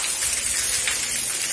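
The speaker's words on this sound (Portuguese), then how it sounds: "Mas olha aqui, gente, a chuva que Deus tá dando pra nós." Heavy rain pours down steadily in Itapura, São Paulo, a dense, loud, even hiss of drops hitting the yard and street with no voices.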